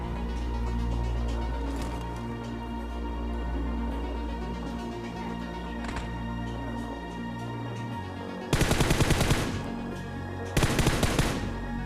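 Bursts of automatic gunfire in a mobile battle royale game played on a Realme 5 Pro, two loud rapid volleys near the end after a long stretch of steady game ambience and music.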